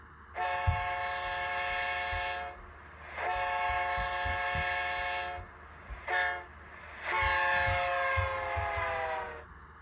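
Rapido GP9RM model locomotive sound decoder playing a Doppler horn effect: four harmonic horn blasts, the third very short, with pitch bending downward on the last, loud and close over a low idling rumble.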